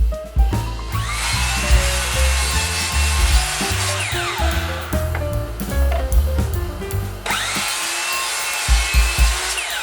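A power saw cutting wooden boards to final length for a nightstand build, with repeated whining cuts and motor spin-ups and spin-downs, loud and close, with clattering of wood between passes.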